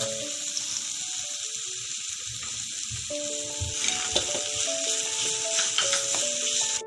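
Onion and tomato sauté with turmeric in a pan for stuffed masala bitter gourd, a continuous close sizzle and crackle with a few brief clinks and stirring scrapes partway through, and no voices.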